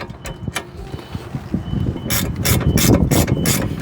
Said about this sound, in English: to make this easy, get a ratcheting spanner. This is a 22.